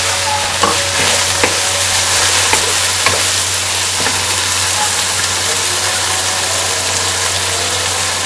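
Beef qeema fries loudly with whole spices, a dense, steady sizzle with a low hum beneath and a few faint clicks, close and continuous with no talk, as yogurt goes into the pan.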